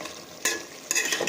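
Mutton simmering in a covered pot is stirred, giving two bursts of wet scraping and sizzle over a quieter background hiss, close up and with no voices.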